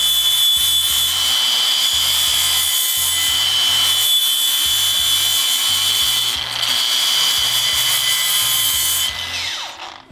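A Fein German-made load-sensing grinder runs loud and steady close by, with a sharp high whine over a pulsing low rumble, then winds down toward the end.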